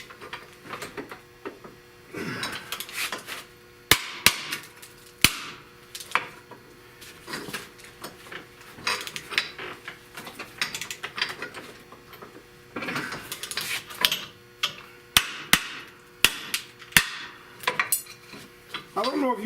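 Metallic hammer blows and clanks while loosening a car's lower control arm ball joint, a series of sharp irregular strikes with rattling and scraping between them, fairly close.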